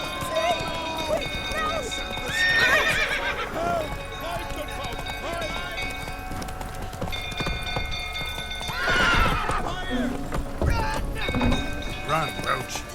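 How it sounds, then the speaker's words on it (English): Roach the horse gallops in The Witcher 3 with a steady run of hoofbeats and a loud neigh, set under game music and ambience while people talk over it. "Run, Roach"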